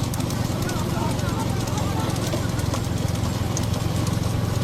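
Hooves of a running bull thud amid a loud, dense crowd din at a Tamil bull-taming event, with someone talking throughout.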